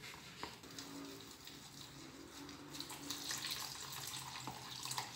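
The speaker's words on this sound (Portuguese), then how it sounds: "pode jogar a água toda, que é uma xícara e meia de água morna" Warm water is poured into flour while making homemade pizza dough, a steady close pouring splash that runs continuously for several seconds and grows a little louder toward the end, with no talking.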